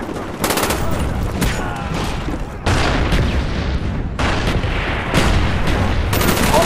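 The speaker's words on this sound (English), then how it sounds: "Mortar team standing by. Coordinates received. Firing for effect." A mortar strike in Call of Duty Black Ops multiplayer on PC, with a rapid barrage of loud booms and gunfire-like blasts that comes in several dense waves, close and intense throughout.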